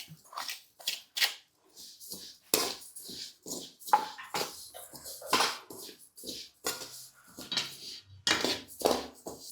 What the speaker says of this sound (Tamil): சீரகம் நல்லா பொரிஞ்சிருச்சுங்க